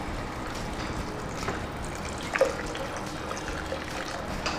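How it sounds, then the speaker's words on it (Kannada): Water pours steadily into a pressure cooker holding dal for a broken-wheat dish, a continuous close splashing trickle with no talking. "ಈಗ ನೀರು ಸ್ವಲ್ಪ ಇಷ್ಟು 3/4 ನೀರು ಹಾಕಿ."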